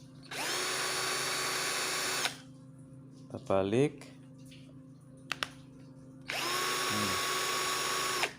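A cheap multi-function 12-volt cordless drill whirs loudly for about two seconds, goes quiet while a voice speaks briefly with a few clicks, then spins up again for another two seconds, close to the microphone.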